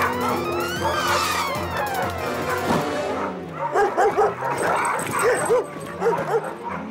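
Cartoon dog Odie from Garfield yipping and whimpering, with a noisy scene up front, then a series of short high whines and barks close and loud.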